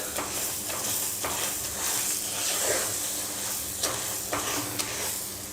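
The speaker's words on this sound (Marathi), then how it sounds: "हे पण आपण छान परतून घेणार आहोत हे बघा हे असं मिक्स करून घ्यायचं आहे छान रव्यात" Chopped banana is sautéed and mixed into semolina in a pan for sheera, a steady close sizzle with soft scraping stir strokes throughout, no voices.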